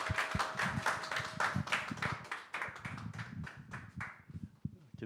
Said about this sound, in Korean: 우리 크게 박수로 환영해 주셨으면 감사하겠습니다